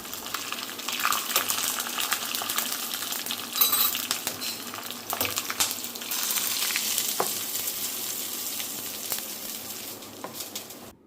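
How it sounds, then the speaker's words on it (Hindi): Spices crackle and sizzle steadily in hot oil as tempering for chutney, with faint clinks and a few louder pops, no voices. "और यहाँ लगाया मैंने चटनी में छौंका।"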